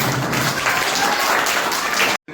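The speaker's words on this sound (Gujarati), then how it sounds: "આપણે તાળીઓથી તેઓને વધાવીશું." An audience at a primary school uniform distribution event run by a Lions Club claps warmly to welcome the chief guest. The broad, even applause fills the room and then cuts off abruptly.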